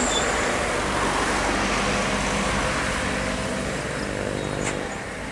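A medium tour bus from West Sumatra rumbles past close by on a winding hill road, a loud steady engine roar and road noise that eases slightly at the end.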